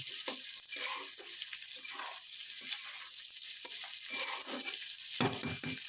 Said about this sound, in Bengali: এটাকে বেশি ভাজবো না, একটুখানি জাস্ট ছেঁচড়ে নেওয়া।